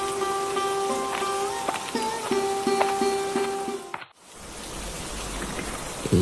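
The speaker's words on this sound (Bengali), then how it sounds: "সে সকাল থেকে এক নাগাড়ে বৃষ্টি নেমেই চলেছে।" Steady rain pours down continuously as a dense, even hiss. A tonal ringing sound fades out midway, and the rain then carries on alone, close and fairly loud.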